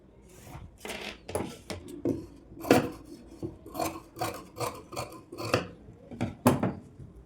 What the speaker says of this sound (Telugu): ఇంకొక ఫోల్డింగ్ కింద ఈ క్లాత్ కట్ చేద్దామండి